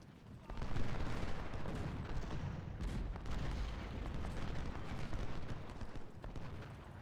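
Dense, continuous gunfire from troops in a Civil War video game at the battle of Philippi, a steady crackle of musketry filling the whole stretch with scattered louder reports, busy and unbroken.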